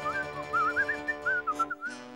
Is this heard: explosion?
no